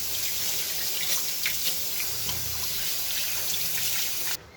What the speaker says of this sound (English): now we will wash hand out with the water properly